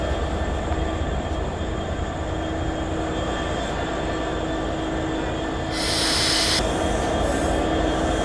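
An EMD broad gauge locomotive of the 66 series, number 6309, heads the Banglabandha Express, its steady rumble and rolling wheel noise continuous throughout, with a brief brighter hiss or squeal rising partway through.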